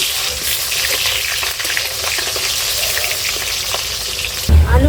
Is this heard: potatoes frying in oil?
yes